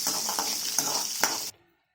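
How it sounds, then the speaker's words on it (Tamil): Sizzling and crackling of small onions sautéing in hot oil for sambar, with a few sharp stirring clinks against the pan before it cuts off abruptly. "இதை நல்லா பொன்னிறமாகிற வரைக்கும் வதக்கிடலாம்."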